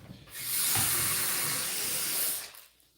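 A kitchen tap runs water during food prep for a large event, likely with potato salad. It comes on as a strong, close, steady rush, holds for about two seconds, then cuts off to quiet.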